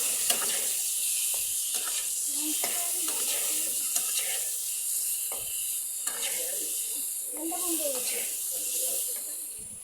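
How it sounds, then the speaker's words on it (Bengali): Eggs seasoned with salt and turmeric being stirred as they fry in oil in a pan, giving a steady close sizzle and hiss broken by soft scraping strokes. "হালকা পরিমাণ লবণ আর হলুদ দিয়ে এখন ভালো করে নেড়ে করে নেব"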